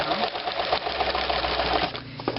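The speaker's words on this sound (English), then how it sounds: "We want to sew to the left of that so we get a really, really clean seam." A sewing machine stitches a seam along a striped cushion cover, running in a fast, steady mechanical whir close by for the whole stretch, slowing and stopping near the end.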